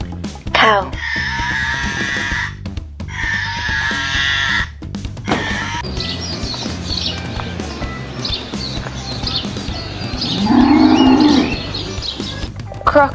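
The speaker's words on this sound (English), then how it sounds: "cow" A cow lets out a single drawn-out, fairly loud low moo near the end, following a stretch of other shrill animal-like calls and busy background sound.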